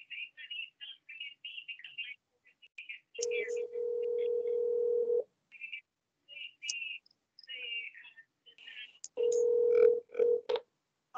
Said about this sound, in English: Are you ringing her on WhatsApp, David?